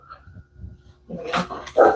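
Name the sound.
dog barking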